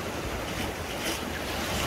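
Ocean surf breaking steadily near a small boat off Sabang, Puerto Galera in the Philippines, a broad continuous wash with wind buffeting the microphone and no voices.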